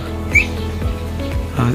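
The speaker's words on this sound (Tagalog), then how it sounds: "Ang dami ibon dito, flyer." Many pigeons call nearby, with quick chirps and whistled notes over a steady background while people talk.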